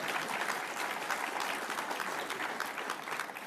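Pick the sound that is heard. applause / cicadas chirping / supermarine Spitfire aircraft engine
applause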